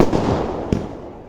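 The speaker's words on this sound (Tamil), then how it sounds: "பாருங்கள் மேலே போய் பயங்கரமாக வெடிக்குது." Festival fireworks burst high in the air, a loud booming blast that decays into a long rumbling tail with a second sharp crack partway through.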